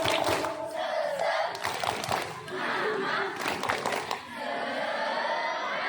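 A crowd of madrasah students cheers and shouts together in a rhythmic spirit clap, loud and sustained across the whole stretch with brief dips between bursts of voices.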